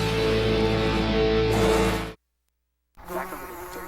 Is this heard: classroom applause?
no